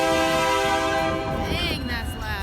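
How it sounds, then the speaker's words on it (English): A train passes near downtown Sumas, Washington, its horn sounding a loud sustained chord up close while the rail rumble continues beneath it. "sounds like there's gonna be a train going by right now"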